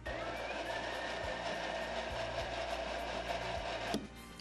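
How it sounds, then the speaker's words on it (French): An electric blender purées cooked carrots in a steady, whirring motor drone that runs without a break, then cuts off near the end. "et on va les mixer."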